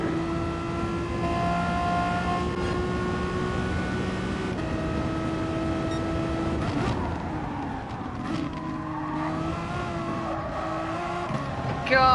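A Renault Megane Trophy race car in a racing game laps the Interlagos circuit, its engine droning steadily and shifting pitch through the gears for the whole stretch, with a slight skid near the end and no talk.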